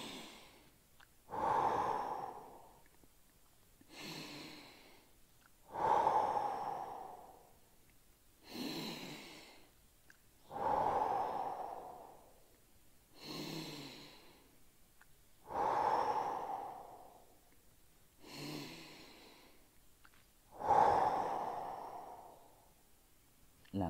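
Deep, slow breaths during a stretching exercise, heel resting on the opposite knee and upper body leaning forward; six steady, evenly spaced inhale-exhale cycles, close and fairly soft, with no talking.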